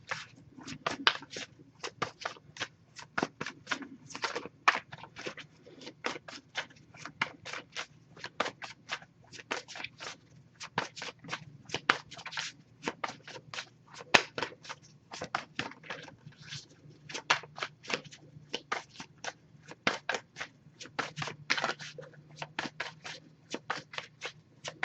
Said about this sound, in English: if I shuffle for a while without anything coming up, I'll just move on to the next Oracle deck